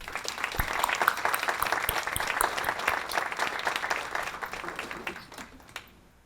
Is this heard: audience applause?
yes